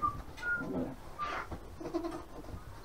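A newborn goat kid just after birth gives a few faint, thin bleating cries, short and spaced apart over quiet background rustle, with no talking.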